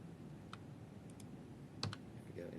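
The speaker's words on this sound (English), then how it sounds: "and hitting the delete key" A few quiet, isolated computer keyboard clicks, including presses of the delete key, sound close by against a low room hum, with no talking.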